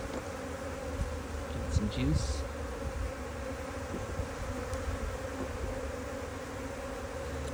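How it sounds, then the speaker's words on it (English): A swarm of docile honey bees buzzes steadily and loudly, a dense continuous drone near at hand, with a voice speaking briefly over it. "they are very docile bees"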